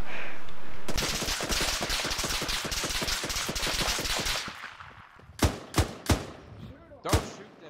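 Sustained automatic gunfire from Arma 3 military simulation combat rattles loudly for several seconds, then thins into a few separate sharp, heavy shots spaced apart, with faint voices in the background.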